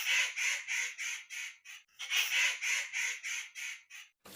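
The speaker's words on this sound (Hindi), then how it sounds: "कालू कौवा जैसे ही दाने चुराने लगता है," A cartoon crow gives two rapid runs of harsh, rhythmic caws, about six to seven calls each, loud and close with a short pause between the bursts.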